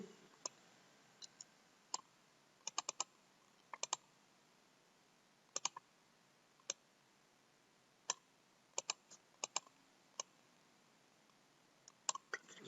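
Code is typed on a computer keyboard in faint, scattered clicks, sometimes in short bursts and sometimes as single taps, with long quiet gaps and no talk.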